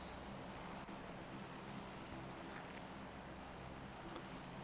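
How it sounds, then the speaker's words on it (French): A steady, noisy drone of a helicopter in the video game PUBG fills the air, constant and fairly loud, with a broad rushing roar and no speech. "Vachement bruyant cet hélicoptère, hein?"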